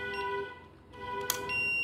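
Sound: long beep from ZKTeco biometric access control entering program mode

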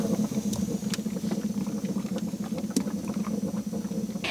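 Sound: overheated car engine coolant boiling

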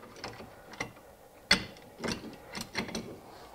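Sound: loosening a clamp after compressing brake caliper piston

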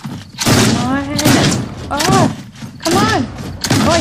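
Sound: gunfire in a shooter video game

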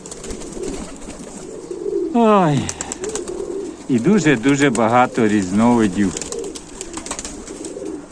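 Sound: high-flying tumbler pigeons cooing

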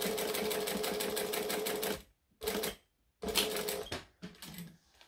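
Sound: sewing machine stitching a laptop case

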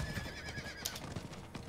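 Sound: horse neighing and galloping in video game Diablo IV

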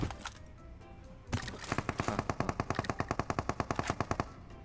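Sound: gunfire from a gun in a video game

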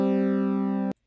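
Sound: synthesized strummed two-note chord in BeepBox

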